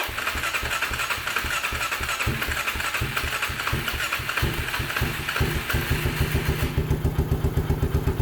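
A homemade side-by-side engine chugs with uneven firing, then settles into a steady, loud, rhythmic idle with evenly spaced pulses, close by and without talk.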